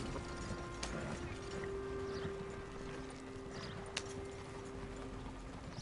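Horses' hooves clop steadily under a rattling, mechanical clatter of harness or wagon, fairly faint and continuous, with a few sharp clicks.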